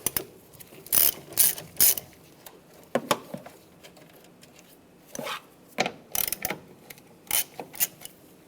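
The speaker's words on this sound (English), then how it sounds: "There's 3 bolts here. We're going to take those off. Use a 10mm socket." A ratchet with a 10mm socket removing three bolts from a 1998-2010 Volkswagen Beetle wiper motor, in repeated short bursts of close, sharp clicking separated by brief pauses.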